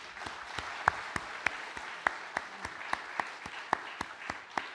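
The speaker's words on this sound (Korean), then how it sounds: "우리 박수 한번 해드립시다." A church congregation claps together in a steady rhythm, crisp regular beats roughly every quarter second at a moderate distance, with faint tonal ringing on some of the accented beats.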